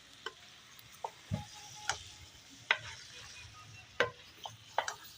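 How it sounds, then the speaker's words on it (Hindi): Beef mince and capsicum frying in a pan, with a soft steady sizzle and intermittent scraping strokes of a spoon stirring, about seven distinct knocks, close and moderately quiet. "बीफ कीमा और शिमला मिर्च को हमने अच्छी तरह से भून लिया है"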